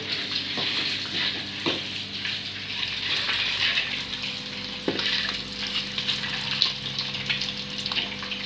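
Paneer and eggs frying lightly in a pan, a steady close sizzle with a bright, hissing edge, punctuated by a few spatula scrapes and knocks, with no talk.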